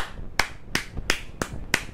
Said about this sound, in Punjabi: ਇਹ ਪਹਿਲਾਂ ਤਾੜੀਆਂ ਦਾ ਰਿਕਾਰਡ ਹੈ, ਮਾਰ ਕੇ ਦਿਖਾਓ ਜੀ ਤਾੜੀਆਂ